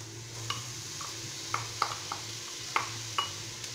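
Red and green bell peppers sauté in a pan with softened onion and garlic, a low steady sizzle broken by occasional light clinks and scrapes of stirring, close by with no voices.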